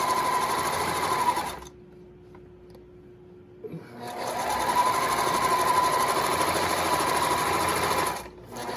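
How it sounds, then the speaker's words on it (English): A sewing machine runs close and steady, stitching an apron at a short stitch length and back stitching to finish. It plays in two bursts separated by a brief pause, with a quick stop near the end. "Finish it off back stitching, lift it, trim it."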